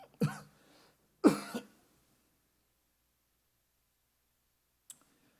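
A preacher coughs during a Sunday sermon, with two short harsh coughs about a second apart, close and fairly loud, then silence broken by one faint click.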